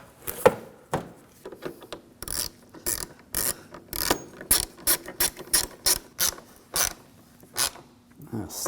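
A ratchet tightens headlight mounting bolts on a 2007-2013 BMW 328i, heard as a long run of quick, sharp, close clicking bursts that repeat in a steady stop-and-go rhythm.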